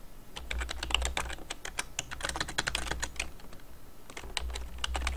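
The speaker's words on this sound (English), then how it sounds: "we're going to type our Gmail account" Fast, steady typing on a computer keyboard while entering a Gmail account, crisp close key clicks in quick bursts with short pauses, no talking.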